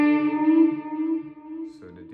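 Electric guitar run through a delay pedal: a single sustained note rings with layered repeats trailing behind it, followed by a quieter second note near the end.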